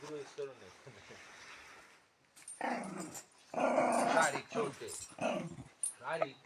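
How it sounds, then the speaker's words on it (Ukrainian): Wolfhound dogs growl and grumble close by, starting alone and then continuing in short rumbling bursts under loud, overlapping conversation between several people. "Вовкодави не продаються."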